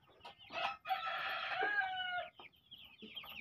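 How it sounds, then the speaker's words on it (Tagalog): Chickens cluck and a rooster crows nearby in a long, strained call, with short clucks before and after it and no talk over them. "Tingnan niyo yung mga manok, guys."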